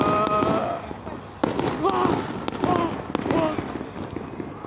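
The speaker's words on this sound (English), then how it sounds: "Fireworks all over." Fireworks burst over Arua City on New Year's night into 2024, seen from a hilltop: a string of sharp pops and cracks at varying distances, with people talking over them.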